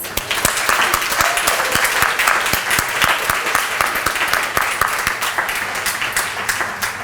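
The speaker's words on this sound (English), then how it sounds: "let's give them also a big round of applause" A large ceremony audience claps for new faculty and staff at a school pinning ceremony, a sustained crisp round of applause with sharp individual claps standing out, steady and loud throughout.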